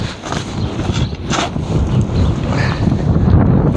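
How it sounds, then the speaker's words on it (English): Wind blows outdoors in a garden while a long-handled Irish spade is in use, a steady loud buffeting rumble across the mic with no pauses. "You can see the wind blowing through."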